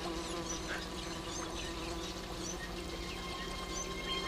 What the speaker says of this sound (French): Attention, il y a une abeille qui va sortir